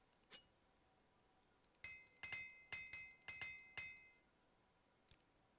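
Rapid metallic hammer strikes ring out while equipment is repaired in the Morrowind video game, six bright clinking blows in a steady rhythm, each with a short decaying chime, preceded and followed by a single isolated tap, quiet overall.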